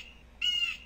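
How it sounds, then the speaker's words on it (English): Bird call in the puzzle video game Windosill, a single short cawing squawk, clear and close against a quiet background. "So, that's a birdie."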